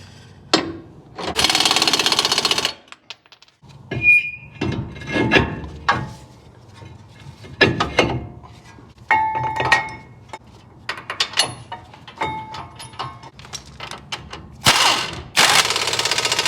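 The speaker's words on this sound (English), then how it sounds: "Tighten it up using our 18mm socket." An 18mm socket tightens the sway bar bolt on a Ford's lower control arm, producing loud, close metallic clicks, ratcheting and clanks in irregular bursts with brief pauses.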